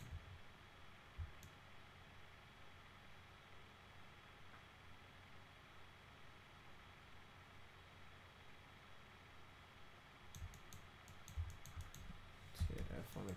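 A computer keyboard being typed on: scattered faint key presses early on, then a closer burst of clicking taps near the end over a steady low room hum.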